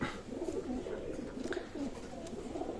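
Pigeons in a pigeon loft cooing softly in repeated low rounded calls, close by and fairly quiet, with a few faint background sounds.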